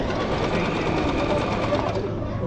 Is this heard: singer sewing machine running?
yes